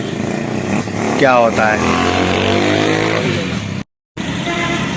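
A motorcycle engine runs close by in a village, a steady rumble with rising and falling revs, while a voice talks over it and the sound briefly cuts out near the end.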